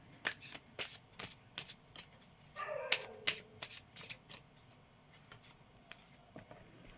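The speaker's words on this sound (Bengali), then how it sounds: "আর একটা কার্ড সাফেল করে নিই।" Tarot cards shuffled by hand in a quiet room, a run of crisp riffling flicks and soft slaps that come in uneven bursts, close to the listener, with no one speaking.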